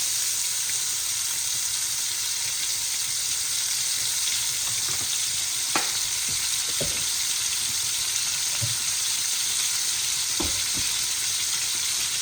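Oil sizzles and fries steadily in a pan while spaghetti with meatballs is being made, a dense, even hiss with a few faint utensil taps and clinks.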